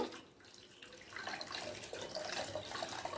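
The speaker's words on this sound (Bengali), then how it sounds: "দিয়ে দেব গরম জল" Hot water poured into simmering biulir (urad) dal in a pot, a soft gushing pour that swells after the first second and continues faintly and evenly.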